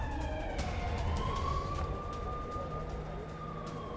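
A wailing siren rises and sweeps slowly over a noisy city background during a blackout in Srinagar, moderately distant and continuous with no talk.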